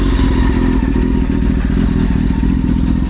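A 2003 Honda CBR 600 F4i sport bike with an aftermarket exhaust system idles close by, a loud, steady, throbbing engine note with a fast, even pulse and a slight clatter, held low without revving.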